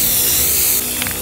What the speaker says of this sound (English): Should we go ahead and spray paint the hat?